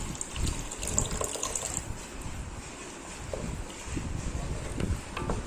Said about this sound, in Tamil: நம்ம கரைச்சி வச்சுருக்கிற புளி தண்ணியை அதில் ஊற்றி நல்லா மிக்ஸ் பண்ணி விட்டுடுவோம்